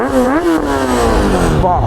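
A Kawasaki Ninja 1000 SX with a Black Widow bend pipe and stock end can revs up close, its tone climbing, settling, then rising sharply again in a loud, brief burst.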